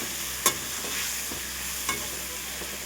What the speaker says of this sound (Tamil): கத்திரிக்காய் போட்டாச்சு. இது வந்து நல்லா வதங்கட்டும்.